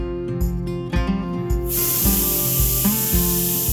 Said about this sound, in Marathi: कुकरला 3 शिट्ट्या झालेल्या आहेत.